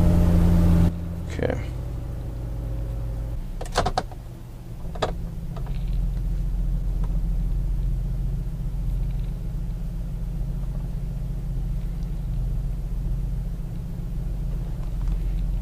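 A cold 2003 Mazda Tribute V6 engine, just started after a reset, settles into a steady high idle, a continuous low rumble with a few brief clicks and knocks early on.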